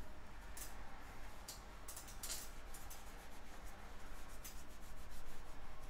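Laser-marked TastyKake donuts being polished with polishing compound, a steady close rubbing and scrubbing with brief brighter scratchy bursts, alone with no talking.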